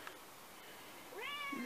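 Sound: cat meowing

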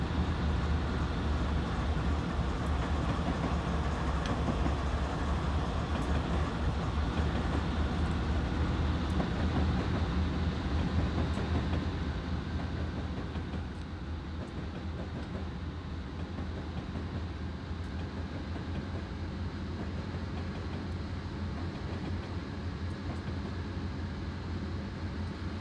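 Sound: train running in Train Simulator 2016 video game, BNSF ES44 DC

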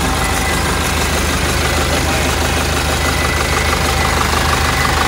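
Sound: Yanmar F97D tractor four-cylinder engine running

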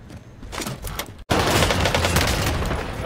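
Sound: gunfire from the video game Warzone

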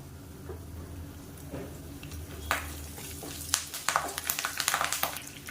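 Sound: curry leaves frying in oil for egg curry

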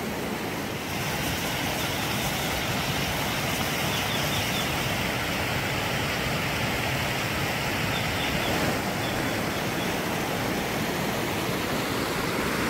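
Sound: flowing water currents after the rains

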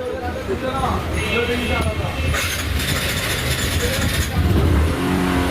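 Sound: TVS Apache RTR motorcycle engine revving

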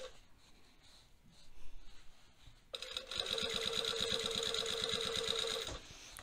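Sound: sewing machine stitching trouser seam

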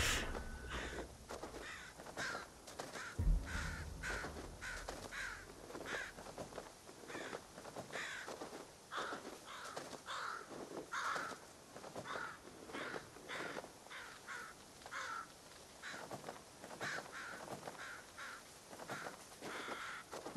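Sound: crows cawing in video game Ghost of Tsushima

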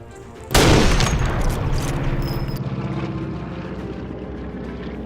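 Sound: airplane flying past in video game Sniper Elite V2

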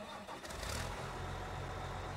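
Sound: engine starting

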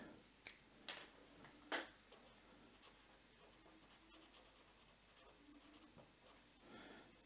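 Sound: pen writing on a new sheet of paper

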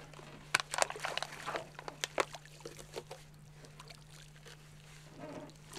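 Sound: fisherman hauling a net out of a lake

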